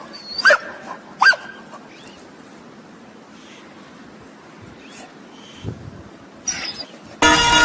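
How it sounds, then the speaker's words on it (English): A dog barks in short, sharp yips, two early then more after a pause, with a whimpery tone, fairly close and otherwise quiet. "barking of a dog"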